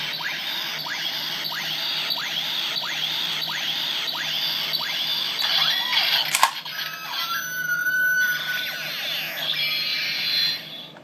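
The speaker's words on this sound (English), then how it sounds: "pull this latch, and that'll create a noise, and then pulling the trigger pulling the thing will extend the Mega Blade" A toy Mega Blade sword gives off a repeating electronic whirring effect in evenly spaced rising sweeps, followed by a click and a shifting, steady electronic tone, close and fairly quiet.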